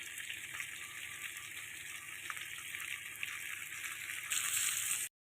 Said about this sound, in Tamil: தக்காளி பழம், ஊசி மிளகா எல்லாத்தையும் போட்டு வெங்காயமும் பூண்டும் நல்லா வதங்கிருச்சு